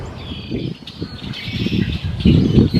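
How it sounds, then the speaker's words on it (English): Harsh, scratchy starling calls come in bursts over low rumbling noise in a garden, several starlings screeching close by. "So it sounds like the starlings, the screechy birds, are here."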